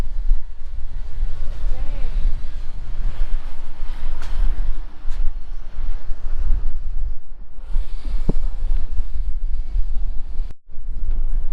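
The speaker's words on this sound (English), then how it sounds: "Pretty breezy up here." Steady wind buffeting and roaring against the microphone on an open bus ride in Vietnam, loud and continuous with low rumble, briefly dipping near the end, with a few faint voices underneath.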